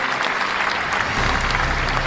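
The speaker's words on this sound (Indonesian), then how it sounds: "Beri tepukan yang meriah buat Tuan Marshal." Audience applause for Tuan Marshal, District Officer of Nabawan, at an evening reception held by the Nunukan regency government: dense, steady clapping from a roomful of people, close and fairly loud throughout.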